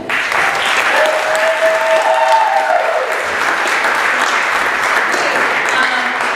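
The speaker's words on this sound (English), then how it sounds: "if we can give another round of applause to Naya and Nim" Steady, loud applause fills the room as an audience claps for Naya and Nim, a dense continuous wash of hand claps with faint voices mixed in underneath.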